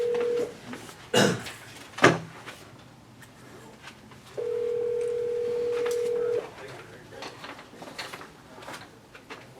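Telephone dial tone heard at the start, then button presses while dialing a call and a steady tone held for about two seconds, with faint background room noise and short knocks.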